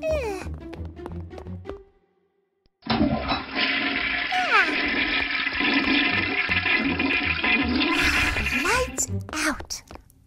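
A toilet flushes with a loud rushing gurgle of water lasting several seconds, following a brief moment of quiet after some voices and sounds.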